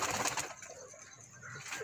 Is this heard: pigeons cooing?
yes